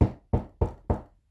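Four sharp knocks on a door, evenly spaced and loud and close, standing alone with no voices around them.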